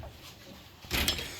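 Metal drawer of a Harbor Freight 56-inch tool box sliding open, a short near scrape-and-rattle of about a fifth of a second after a quiet pause.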